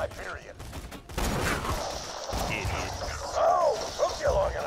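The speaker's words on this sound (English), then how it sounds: "I'm hearing more gunfire than usual." Bursts of gunfire crackle through a Borderlands 2 firefight, rapid shots and impacts layered with mechanical clatter and game effects, while a voice speaks over the action.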